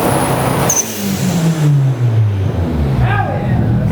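Nissan 240SX engine revving up and dropping in a rising-then-falling sweep, loud and close, with people whooping and talking over it.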